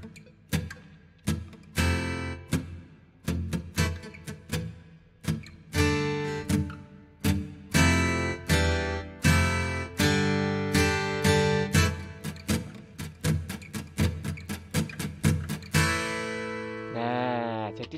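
An acoustic guitar rendered by the Ample Sound guitar VST plugin plays a steady rhythmic pattern that mixes short, choked muted strokes with ringing strums, ending on a held chord.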